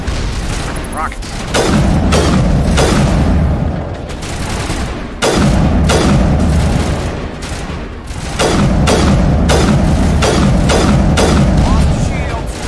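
Rockets exploding in the video game Mass Effect, a series of loud booming blasts and rumbling fire in three long waves with sharp transients, a voice talking over the combat.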